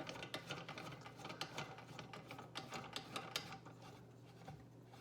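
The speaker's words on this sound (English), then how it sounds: "I'm going to place the ANOVA on the side here and tighten down" A threaded clamp nut is turned to fix an Anova sous vide circulator to the side of a cooking pot. It makes quiet, rapid ratcheting clicks and scraping turns, close by and faint, with no talking.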